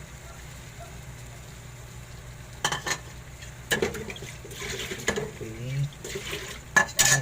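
Scrambled eggs are stirred in a pan: scattered scraping and clinking strokes of a utensil against cookware, fairly close, with a soft voice speaking briefly at times.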